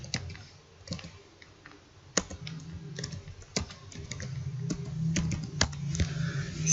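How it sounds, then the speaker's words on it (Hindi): Typing on a computer keyboard while entering data into a Microsoft Excel spreadsheet: close, irregular clicks and key taps over a low steady hum, with no talk. "यहाँ पर मैं कोई डेटा इंसर्ट करता हूँ, इसमें टेक्स्ट भी इंटर करता हूँ।"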